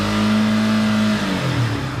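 Yamaha MT-15 motorcycle engine revving loud and close, a steady high-pitched drone that holds then dips slightly toward the end, with no talking.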